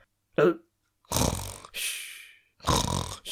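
Loud snoring snorts and grunts from a film scene, three or four drawn-out rasping breaths separated by short pauses, close and alone with no talk.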